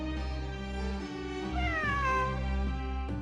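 A cat in Genshin Impact meows with drawn-out, wavering cries that rise and fall in pitch, close and clear over a steady tonal background hum, with no talking.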